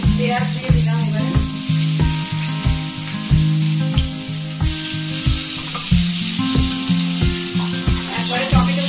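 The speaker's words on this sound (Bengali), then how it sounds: "পেঁয়াজ দিয়ে দিলাম" Onions sizzle and crackle in hot oil in a home kitchen pan, with occasional stirring. The frying stays steady and close throughout, set against rhythmic background music.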